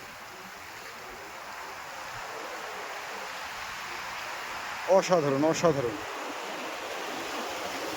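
Steady wash of waves rolling onto a mangrove forest shore during a low-pressure storm fills the background, with a brief spoken exclamation partway through.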